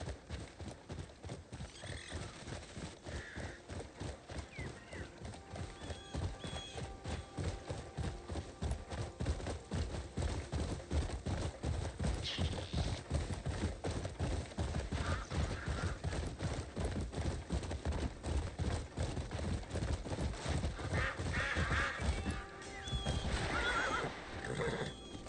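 Horse in a video game neighing and whinnying repeatedly over steady rapid clip-clop galloping hoofbeats, loud and close, continuing throughout with no talk.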